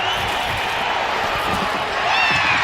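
A crowd in a basketball video game reacts to a foul with a continuous, loud roar of arena noise that rises slightly toward the end.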